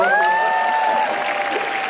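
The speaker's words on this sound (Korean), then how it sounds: "박수 한번 쳐주세요." Audience clapping at a seminar talk rises briefly as a steady patter of hands, overlaid by a sustained bright tonal sound that fades halfway through.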